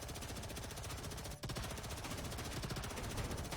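A rapid-fire weapon in the video game Space Engineers shoots at targets in a dense, unbroken stream of loud, fast shots, pausing only briefly once before resuming.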